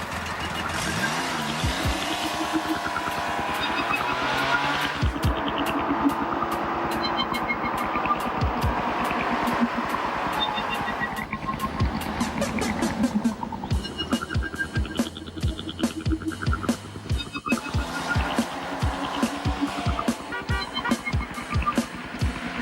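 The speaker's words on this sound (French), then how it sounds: "qui exalte en plus le célèbre bruit du moteur Porsche" An air-cooled flat-six engine of a Porsche 911 throbs and revs continuously, with rising and falling tones and rapid rattling pulses, loud and close throughout.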